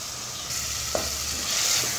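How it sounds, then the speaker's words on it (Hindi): Chicken masala is being fried and stirred over a high flame, a close, steady sizzle with a brief scrape of a spoon partway through. "रेसिपी चिकन की मैं मसाला भून के तैयार कर रही हूँ। फ्लेम मैंने इसके नीचे हाई कर दी है।"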